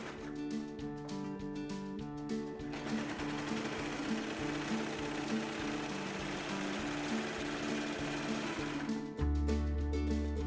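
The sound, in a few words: serger overlock machine finishing pillowcase seams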